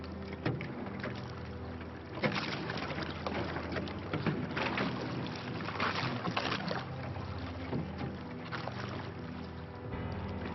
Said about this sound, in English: Just heard the clunking noises, and I've only just realised that it's ice hitting the boat.